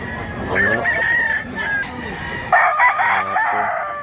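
A rooster crows loudly and close by, a long strained call, followed by another bird's clucking crow; no one speaks.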